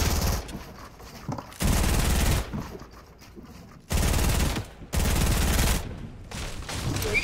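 Bursts of P90 submachine gun fire in a video game, loud rapid volleys in several separate strings with short gaps between them, alone with no talk.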